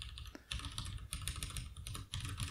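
Quick bursts of typing on a computer keyboard, rapid close-up key clicks in short clusters separated by brief pauses, fairly quiet with no voice.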